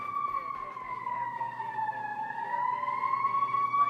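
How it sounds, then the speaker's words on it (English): An emergency vehicle siren wails outside on a Washington, DC street, a steady rising-and-falling tone that stays loud and continuous throughout, with faint room noise underneath. "There's sirens a lot here because we're in DC."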